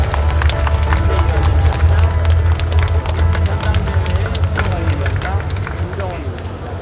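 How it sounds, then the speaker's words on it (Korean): Crowd applause and cheering fill a party convention hall, a dense, steady wash of clapping with crowd noise and a low rumble beneath, loud throughout and easing slightly toward the end. "여러분 큰 박수 부탁드리겠습니다."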